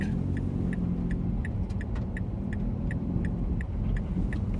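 A car rolls past on Clifton Hill while the recording vehicle waits to make a U-turn, giving a steady low engine and road rumble with a regular ticking from a turn signal on top.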